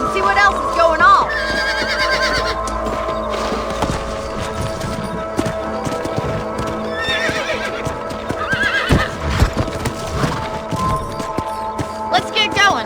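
Horses whinny and their hooves clip-clop at a run in a Wild West video game, the neighs loud and close over continuous hoofbeats and music, with speech throughout.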